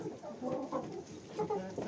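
Raucous, overlapping honks and squawks from several geese, including a mating gander and goose, continuous and fairly loud, with no talking.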